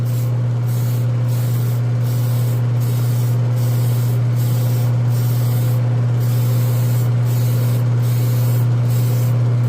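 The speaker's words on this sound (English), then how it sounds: "And we're just giving it a spray." Tamiya PS-02 pure orange spray paint hisses from the can in short repeated bursts over a loud steady hum, close and continuous, with no talking.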